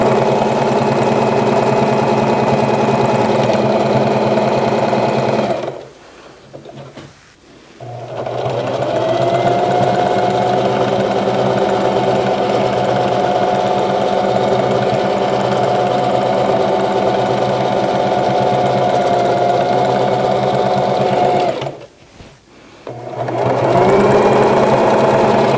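A domestic sewing machine hums steadily while stitching during free motion quilting, loud and close, running continuously with two brief pauses where the motor stops and restarts.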